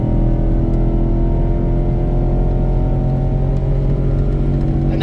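A Ford F150 pickup at full throttle climbing a steep 6% grade while towing a load, its engine a steady, loud, continuous drone with a low rumble and no voices.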